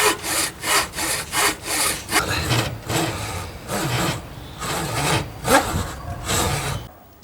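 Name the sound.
sawing wooden guitar neck along fretboard cut-off line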